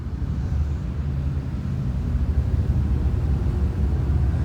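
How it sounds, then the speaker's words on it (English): Motorbikes roar past outside a workshop where an Austin Metro is being restored, a steady low engine rumble that swells slightly as they go by, with no talking. "Wait for the bikes to go past."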